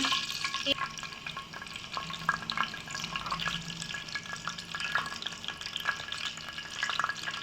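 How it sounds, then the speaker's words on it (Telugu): Bitter gourd pieces fry in a pan, a dense steady sizzle with soft scraping as they are stirred, continuous and fairly close with no voices. "ఇవి కొంచెం హీట్ అయిన తర్వాత ఫ్రెండ్స్ ఒకసారి తిప్పుదాం"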